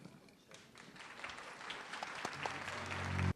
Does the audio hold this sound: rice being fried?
no